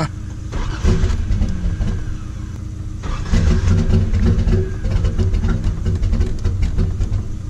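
An Infiniti G35 cranks briefly, then catches and fires up at about three seconds, settling into a loud, rough, close idle with a throaty low rumble.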